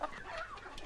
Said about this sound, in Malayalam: എന്താണ് വണ്ടിയില്? കോഴിയാ സാർ